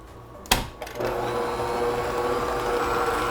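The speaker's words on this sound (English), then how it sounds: "let the mixer do its thing" An electric stand mixer starts after a brief clatter and settles into a steady, close whirring drone as it beats browned butter cream cheese frosting for carrot cake.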